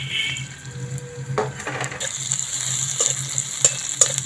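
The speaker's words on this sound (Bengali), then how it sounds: "পেঁয়াজটা ভালো করে একটু ভেজে নেব।" Chopped onion frying in mustard oil in a hot kadai, a continuous close sizzle with occasional stirring clicks and scrapes, a low hum beneath and no talking.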